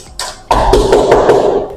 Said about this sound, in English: With the sound of the door, you can know how thick or how the distance is.